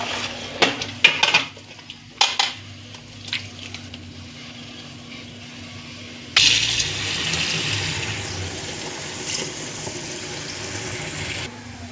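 Chopped vajdi (goat tripe) being rinsed clean: a few clanks of a metal pot and utensils, then water pouring from a tap in a steady, loud rush that continues to the end.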